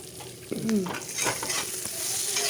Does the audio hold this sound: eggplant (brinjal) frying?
yes